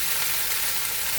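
Fish fries in a pan with a close, even, continuous sizzle and crackle, steady throughout with no talking.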